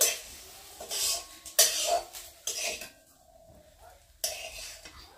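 A metal spatula scrapes and clinks against a frying pan as fried fish is lifted out of the oil, in irregular close bursts, with a faint sizzle between them.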